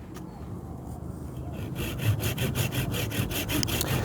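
A Bahco Laplander folding pruning saw cuts through soft wood with steady back-and-forth rasping strokes, biting on both push and pull, close and fairly loud, with no talking.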